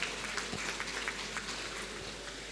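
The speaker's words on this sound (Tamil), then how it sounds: "பலத்த கைத்தட்டல் கொடுங்க." Dense, sustained applause from the audience at a Rotary Club of Vellore East installation function, a steady rain-like patter of many hands clapping together throughout.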